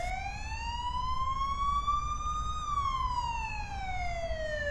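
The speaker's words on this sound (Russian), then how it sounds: "Скорая поехала." An ambulance siren wails in a slow rising and falling sweep, steady and fairly loud, over a low rumble of traffic with no talking.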